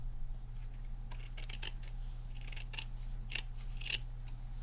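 Scissors trim stray strings and backing from a shabby-chic craft banner made with a Ruffles and Roses kit, giving a run of quick, crisp, close snips in uneven bursts over a steady low hum.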